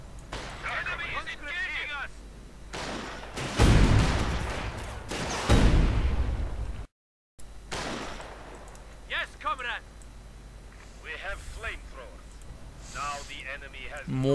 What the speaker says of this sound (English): And another Sturmovik strafing run.